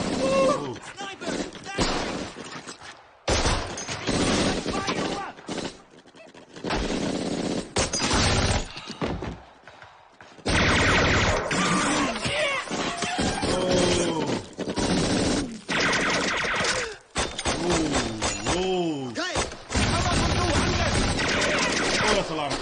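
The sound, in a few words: machine gun and rifle fire in a war TV series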